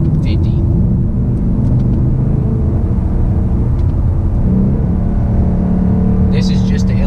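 A 2018 Ford Mustang's engine drones loudly and steadily from inside the cabin, accelerating in third gear from 50 with a deep, continuous rumble, with brief talk over it.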